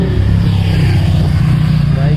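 A motor vehicle, likely a motorcycle, drones loudly and steadily past in a seaside harbour town, its low engine rumble continuous while voices talk over it.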